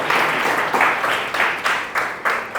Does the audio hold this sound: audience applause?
yes